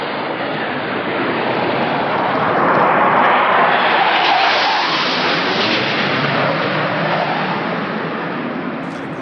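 Russian military jet aircraft flying over the Baltic Sea; a loud jet roar swells to a peak near the middle and then eases slightly, a continuous rushing engine noise with no voices.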